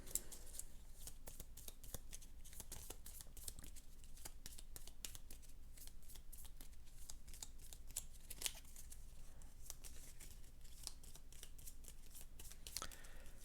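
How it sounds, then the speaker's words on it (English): Cards being riffled and shuffled for an Aeon's End card game, a long run of quick, crisp flicks and snaps with short pauses, close and fairly quiet, with no voices. "Shuffle this up"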